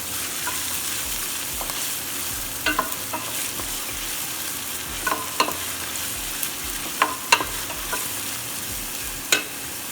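Chopped onions sizzle in a hot pot for beef and vegetable soup, a steady frying hiss punctuated by several sharp scraping clinks from a spoon stirring against the pot, close up with no talking.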